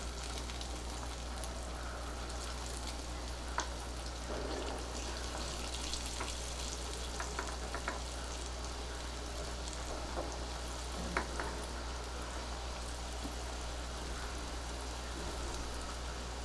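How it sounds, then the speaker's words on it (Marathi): Brinjal slices shallow frying in oil in a pan give a constant soft crackling sizzle with a few sharp pops, steady and fairly faint over a low background hum. "हे पलटी करून आपल्याला दोन्ही बाजूनी व्यवस्थित तळून घ्यायचं शॅलो फ्राय करून घ्यायचं"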